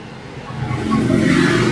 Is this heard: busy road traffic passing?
yes